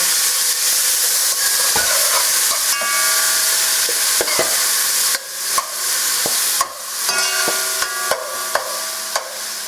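A spoonful of sofrito is stirred into a hot cooking pot for arroz con gandules. A loud, continuous sizzle and hiss runs throughout, broken by repeated sharp scrapes and knocks of the spoon against the pot.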